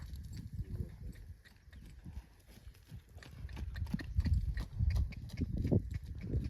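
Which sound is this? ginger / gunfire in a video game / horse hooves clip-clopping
horse hooves clip-clopping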